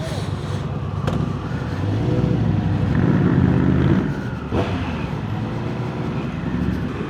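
A Triumph Speed Triple 1200 RS motorcycle rolling at around 20 mph, its engine a steady low rumble with wind noise, swelling slightly mid-ride, while the rider talks over it.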